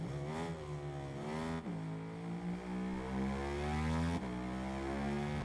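A 2022 KTM MotoGP bike engine in the racing video game RIDE 5 revs hard and rises in pitch through several climbing runs, broken by brief gear-shift dips, loud and in the foreground.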